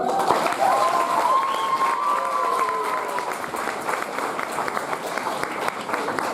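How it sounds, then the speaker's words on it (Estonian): Sustained audience applause and crowd noise for performers on a live stage show, dense and steady throughout, with a brief tonal voice or whistle rising over the clapping near the start. "Ja teeme veel kord sulle aplausi meie esinejatele."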